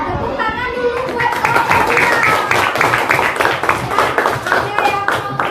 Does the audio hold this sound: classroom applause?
yes